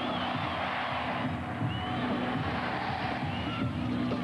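Steady roar of a big stadium crowd at Stanford during the 1999 USA versus Brazil Women's World Cup match, broad and sustained cheering with a low hum of voices that stays constant throughout.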